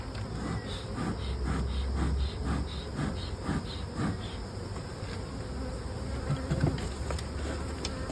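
Honeybees buzzing steadily around a large hive being heavily smoked, a dense continuous drone close by with a faint hiss underneath and no voices.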